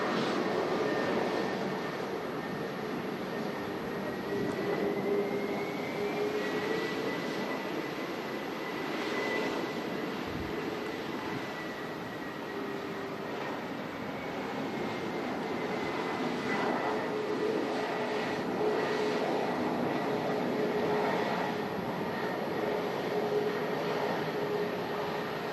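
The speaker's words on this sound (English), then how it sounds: "Cathay Pacific, A350 as well, just on the taxi out." A Cathay Pacific A350 taxis out at Manchester Airport during Storm Darragh, a steady distant jet engine hum with a faint rising whine, blended with wind roar for the whole stretch.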